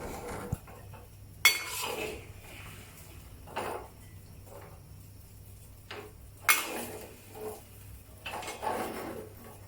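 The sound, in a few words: spatula pushing egg scramble around a wok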